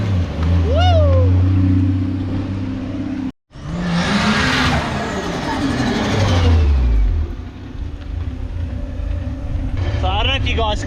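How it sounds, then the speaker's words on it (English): A drift car's engine revs hard through a pull, turbo wastegate fluttering and hissing as boost builds, a loud rising roar that briefly cuts out, then climbs and drops away with chattering turbo noise at the end. "The wastegate sounds super different. It's a little bit lazier."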